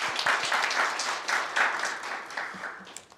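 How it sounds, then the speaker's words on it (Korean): An audience at a city council policy debate on a library construction collapse claps after a presentation, moderately dense applause in a hall that swells briefly and then thins out and fades. "박수 부탁드리겠습니다"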